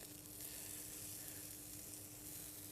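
A small piece of butter melts in a pan on the stove with a soft, steady sizzle and crackle, faint and continuous, with no talking, as spinach is being prepared.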